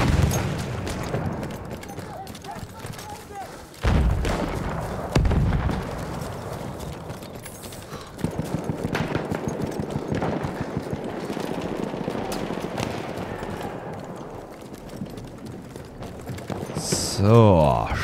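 Gunfire in the video game Battlefield 1 sounds in scattered bursts and single shots, some sharp and close, others more distant, mixed with game ambience and a brief explosion-like rumble.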